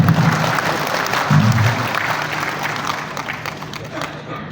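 An audience applauds during a presentation by Indonesia's Minister of Manpower. Steady crowd clapping fills the whole stretch, with a voice speaking over it, and it fades slightly toward the end.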